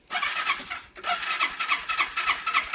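A two-wheeler engine is started with the choke pulled and the brake held, without throttle. It gives a brief cranking attempt, a short dip near one second, then a steady, fluctuating running sound that stays fairly loud and close.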